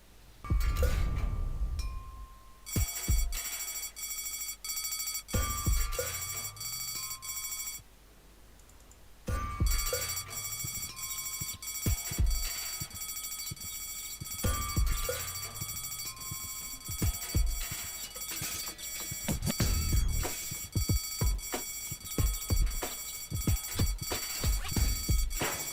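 Emergency phone ringing in the Deponia adventure game, a bright bell-like ring repeating in bursts with pauses between, alongside clicks and clinks, fairly faint and without talking.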